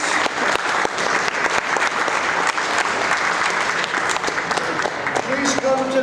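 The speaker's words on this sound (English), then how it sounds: "Let's have a big round of applause for all of our student athletes." A crowd at a college signing ceremony gives the student athletes a full round of applause, steady and loud throughout, with faint voices emerging near the end.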